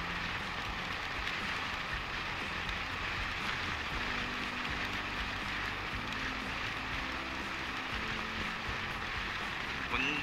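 Rain falls during a highway ride from Chennai to Tindivanam, making a dense, constant hiss over a low rumble of wind and road noise that runs unbroken all the way through.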